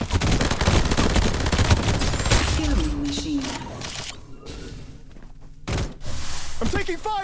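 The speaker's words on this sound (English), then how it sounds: "I'm taking fire!" Rapid gunfire in the Farlight 84 battle royale game, with dense automatic bursts and sharp single shots alongside game effects, loud and close, briefly pausing before more shots.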